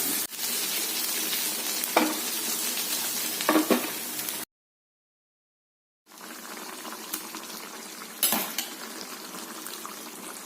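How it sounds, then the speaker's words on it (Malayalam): Food sizzles steadily as it fries in a pan, with occasional utensil clinks as it is turned. The sound cuts to silence midway, then the frying resumes. "ഇപ്പോൾ ഫ്രൈ ആയിക്കൊണ്ടിരിക്കുന്നത് രണ്ട് തവണ മറിച്ചിടുന്നു"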